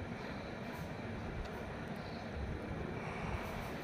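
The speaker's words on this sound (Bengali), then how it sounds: "এই বৃষ্টির মাঝখানেও ট্রেন চলে যাচ্ছে" A train running through heavy rain on the way to Dhaka: a dense, even roar of rain and rolling rumble, fairly faint, with no talking.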